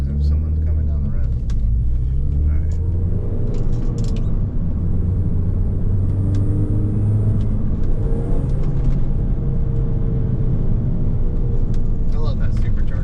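A car comes down a quiet residential street, a steady low rumble that holds throughout and swells slightly as it nears.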